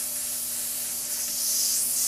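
A spray gun releases blue paint in a steady, continuous airy hiss that swells slightly louder toward the end, close and alone with no talk.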